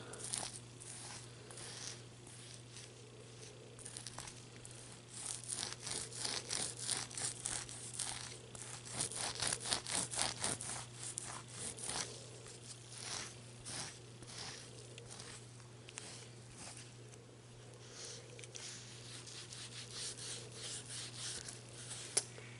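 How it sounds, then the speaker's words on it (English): A soap-dampened tissue scrubs eyeshadow off a makeup palette in close, quiet detail: soft repeated rubbing and crinkling strokes, rhythmic and near, with no voice. "take some of that soap on my tissue. And rub off that eyeshadow palette."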